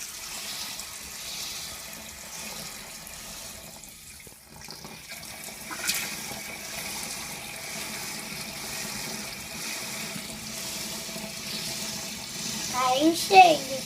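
A red toy washing machine fills with water, a soft running trickle with light bubbling that carries on steadily, with a child-like voice talking over it.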